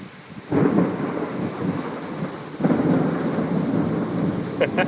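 A thunderstorm with steady rain and two deep rumbles of thunder rolling in a couple of seconds apart, close and full, with no speech.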